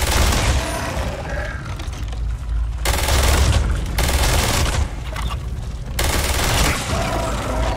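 Gunfire in the video game Starfield, with dense sustained bursts of rapid shots broken by brief pauses, loud and close with booming impacts.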